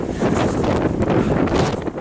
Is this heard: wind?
yes